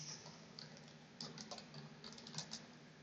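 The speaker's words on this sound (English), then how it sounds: "So I'll try typing it in." A password is typed on a computer keyboard as a quick run of light, irregular key clicks over faint room hiss, close and quiet.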